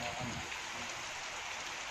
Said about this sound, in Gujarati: અરવલ્લીના મેઘરજમાં પણ વરસાદ શરૂ થયો